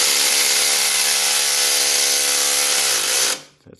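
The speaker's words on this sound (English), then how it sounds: "I'll hold it in place and you just hit it with the wrench." A power wrench drives a bolt on the exhaust of a 2015 Jeep Wrangler: one loud, sustained high-pitched whir up close that holds steady for about three seconds, then abruptly winds down and stops.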